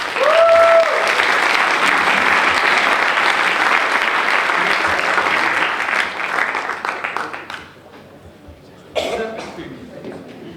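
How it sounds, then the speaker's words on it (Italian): Audience applause at an Italian award ceremony, a dense steady burst of clapping with a few coughs, fading out near the end before a brief final flurry. "Quindi un grande applauso a Bartolo."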